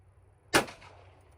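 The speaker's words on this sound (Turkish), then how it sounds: "Ama atışlara devam ediyorum." A single sharp gunshot from a Ruger Single Six .22 revolver at a 25-metre shooting range cracks out, loud and abrupt, followed by a brief fading echo in otherwise quiet surroundings.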